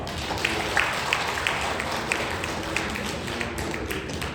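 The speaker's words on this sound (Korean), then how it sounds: "하나님께 감사와 찬송과 영광의 박수를 올려드리겠습니다" A church congregation gives a steady, moderately distant round of applause during a Sunday worship service, with scattered sharper claps standing out from the even wash.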